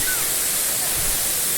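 Sirimane Falls near Sringeri in Kigga, Chikmagalur, roars as a steady broadband rush of falling water, continuous and close with no break, and no voices can be heard over it.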